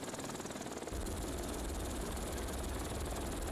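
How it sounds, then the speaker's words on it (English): Los Angeles City rescue helicopter arriving over a cliff rescue, its rotor a loud, steady, close throbbing roar that swells in after a brief quieter opening and holds on. "The Los Angeles City helicopter has just arrived on scene"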